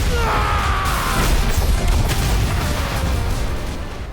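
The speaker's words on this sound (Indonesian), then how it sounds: "Qin kemudian menyerang pria itu menggunakan kubus tersebut, menghasilkan sebuah ledakan yang sangat dahsyat" A huge explosion in an anime fight scene, loud and dense from the start, with crashing, rumbling bursts and debris filling the whole stretch before easing slightly at the end; no voices.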